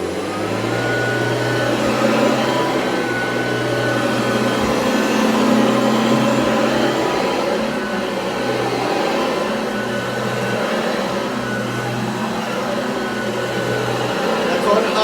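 Hoover ONEPWR cordless vacuum cleaner running steadily on a carpet, a continuous motor drone with a low hum that shifts slightly in pitch, close and fairly loud throughout.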